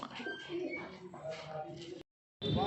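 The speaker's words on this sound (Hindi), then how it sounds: "कबूतर आप पहले देख रहे हैं, नर है ये" A male Punjabi pigeon coos softly in a continuous rolling murmur that stops briefly before resuming, close by and unaccompanied by talk.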